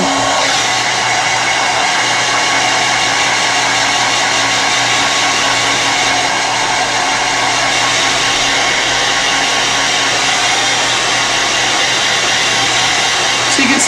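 A hair dryer roars steadily and loudly, close by, for the whole stretch while drying a wet dog, with no talking over it.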